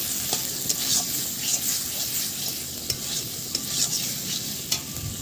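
Boiled, fried potatoes are stirred with spices in a hot pan, with a continuous close sizzle broken by repeated sharp spatula scrapes and clicks at an irregular rhythm, and no talking.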